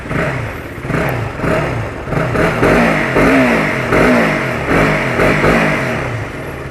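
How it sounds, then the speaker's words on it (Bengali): A motorcycle engine revs and pulls away close by as the rider sets out, the throttle rising and easing in waves over a continuous loud rumble with some rattling. "আপাতত বাইক নিয়ে আমি বের হলাম।"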